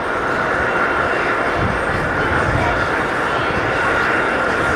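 A four-engine Emirates jet airliner roars at JFK airport, its engines giving a loud, continuous broadband rush that holds steady throughout.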